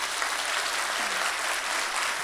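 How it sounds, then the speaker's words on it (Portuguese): Applause from a seminar audience, a dense, even roar of many hands clapping throughout, with a faint voice briefly audible beneath it. "Vamos dar uma salva de palmas para eles."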